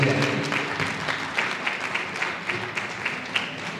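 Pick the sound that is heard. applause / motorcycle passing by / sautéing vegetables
applause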